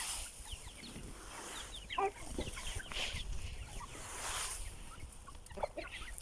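Several chickens and chicks clucking softly at a moderate distance around a coop, scattered short calls over a background of rustling and outdoor noise.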